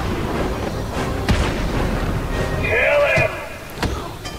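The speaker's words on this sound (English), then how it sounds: "You can't shoot Batman" Gunfire from the video game Batman: Arkham City, with a couple of sharp shots and a booming burst partway through, heard beneath someone talking over the gameplay.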